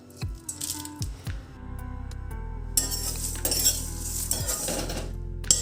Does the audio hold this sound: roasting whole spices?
yes